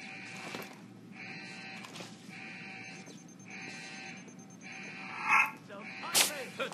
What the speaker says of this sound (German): Verdammt, Schüsse!